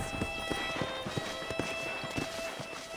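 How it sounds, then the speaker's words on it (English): Horse hooves from the video game Red Dead Redemption clip-clop in a quick galloping rhythm over a steady synthetic background hum, moderately loud. "let's see if you can still ride a horse."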